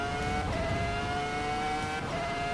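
Volvo S60R engine in a racing simulator game drones steadily at a near-constant pitch, dipping and rising slightly partway through, with no voices over it.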